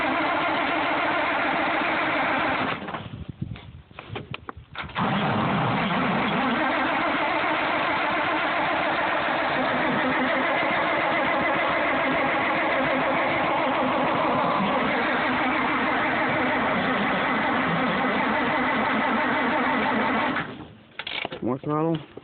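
A Farmall 460 tractor engine, hard to start from cold, runs and revs unevenly with a steady mechanical clatter, cutting out briefly near the start and again at the end.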